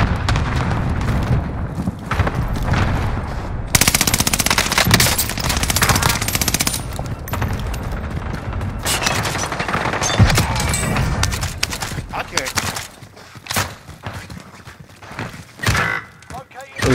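Dense automatic gunfire and booming shots in Call of Duty: Modern Warfare, rapid bursts layered over each other and close up, with voices talking over the din.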